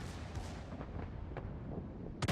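Battleship secondary guns firing in a naval combat video game, a series of deep rumbling booms rolling one into the next over about two seconds, ending with a sharper blast.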